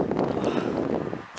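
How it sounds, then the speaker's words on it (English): Steady wind buffets the microphone with a low, rumbling roar and no clear voice over it. "it's too windy"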